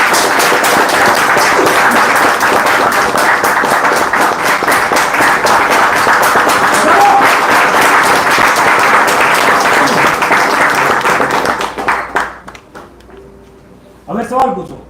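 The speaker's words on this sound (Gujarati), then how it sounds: "એકવાર જોરથી તાળી વગાડો" At a meeting, an audience breaks into loud, sustained applause with dense clapping from many hands close by. The clapping holds steady for about twelve seconds, then thins out to scattered claps and fades to near quiet.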